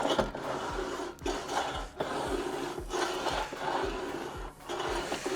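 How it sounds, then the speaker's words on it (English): A small sharpening tool is run across the bed knife of a cylinder mower, making a close, rhythmic scraping and rasping in repeated strokes with soft knocks between passes. "Got this little tool that I bought from Brisbane Cylinder Mower Specialist that I run across the bed knife."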